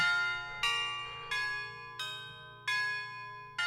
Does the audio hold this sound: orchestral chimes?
yes